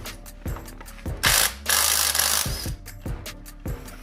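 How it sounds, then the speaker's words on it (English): A socket wrench with a 27 mm socket ratchets on the front sprocket nut of a 2020 Kawasaki ZX10R, giving close, crisp clicking strokes in a steady rhythm, broken once by a louder burst of effort as the nut breaks loose. "all we have to do is break the nut and remove the front sprocket"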